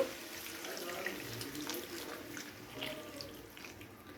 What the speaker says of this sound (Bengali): এবার এখানে দিয়ে দিচ্ছি জল আলুটা সেদ্ধ করে নেওয়ার জন্য